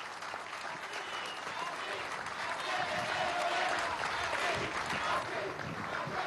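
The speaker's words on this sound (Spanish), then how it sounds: "Un aplauso desde aquí." Sustained applause from a crowd gathered at a government meeting in the Caracas Metro workshop yard, steady and dense throughout, swelling slightly in the middle and holding loud to the end.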